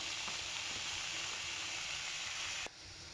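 Ginger garlic paste hits a hot pan of sautéed onions and whole spices, producing a loud, steady, broadband sizzling hiss that drops noticeably near the end.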